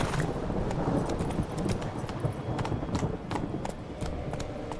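Roach the horse galloping in The Witcher 3, a rapid, steady clip-clop of hooves close by over a continuous rumbling background, with no talking.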